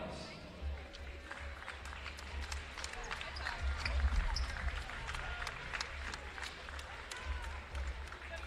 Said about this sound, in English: please stand now so we may recognize your contributions with a round of applause